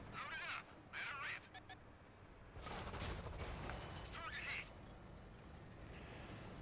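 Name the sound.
tank firing AP rounds in World of Tanks video game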